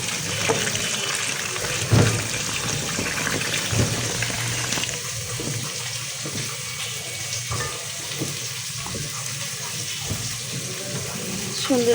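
Fish is rinsed under running water in a home kitchen, a steady close splashing and trickling that runs the whole time, with some clatter and faint voices in the background.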